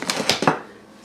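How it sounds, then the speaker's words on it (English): Flour being whisked with baking powder, baking soda and salt for a chocolate chip sour cream pound cake: a few quick, scraping clinks of a whisk against a mixing bowl, close and fairly loud, then fading to quiet. "We're going to whisk that in with our flour"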